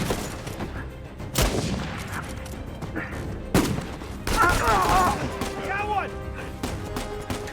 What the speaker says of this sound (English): Stop shooting me. I'm trying to shoot him.